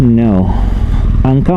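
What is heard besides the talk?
No everyday noises stand out.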